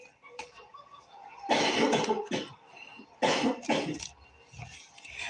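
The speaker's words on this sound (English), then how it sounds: "I have a percentage of germs enough to have a deep cough now" Deep, hacking coughs from a sick person with phlegm in the throat come in two strong bursts with smaller throat-clearing sounds around them, loud and close, with no speech.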